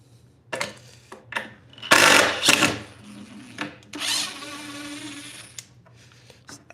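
A power drill drives screws into wood in short whirring bursts, strongest around two seconds and again near four to five seconds, close and moderately loud with quiet gaps between.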